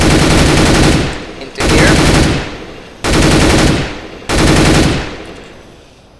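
Loud automatic rifle fire in CS:GO, four sustained bursts of rapid shots, each about a second long and separated by brief gaps, with a faint voice mumbling underneath.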